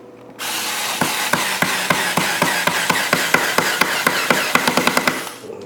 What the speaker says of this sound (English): grab your screwdriver and just screw